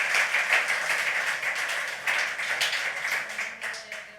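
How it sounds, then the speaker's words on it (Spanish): A church congregation claps together in praise of God, a dense steady patter of many hands that fades slightly toward the end, with no talk over it. "Es una ofrenda, palmas a Dios"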